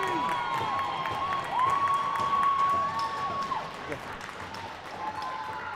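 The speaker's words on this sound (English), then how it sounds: "That's the Louis G cheering section right there, folks. Absolutely going wild for their friend" A youth hockey crowd at a 16U game between Pittsburgh Pens Elite and Buffalo erupting in cheers after a goal, a sustained roar with shouts and whistles, loud and close through the rink.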